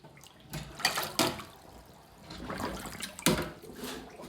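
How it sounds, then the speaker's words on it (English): Water drains from two filled kitchen sink bowls through new waste pipes, a gurgling, splashing flow with irregular surges and glugs, close and moderately loud, with no talk. "So you do get a lot of water then flowing through these pipes"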